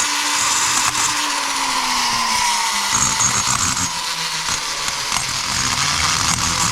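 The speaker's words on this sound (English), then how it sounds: "If anybody's interested in my Amazon flex shaft, I'll drop a link. This is the 780 watt version." An Amazon 780 watt flex shaft rotary tool grinding casting imperfections in the port of a 1993-2001 Yamaha YZ80 cylinder, a loud, steady high-pitched whine with a slowly falling motor tone and scratchy grinding bursts, close up.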